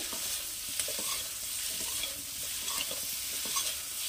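Vegetables being stirred in a pan after a little water is added, a soft steady sizzle with light scraping and tapping strokes recurring every half second or so, close and quiet, no talking.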